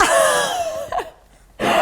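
A man gives a sudden, loud burst of coughing indoors, with one sharp cough, a brief pause, then another harsh cough right at the end.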